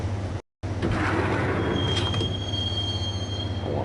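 A subway train rides along in the Max Payne video game: steady loud rumble of wheels on track with a high metallic squeal building midway, after a brief cut in the sound near the start.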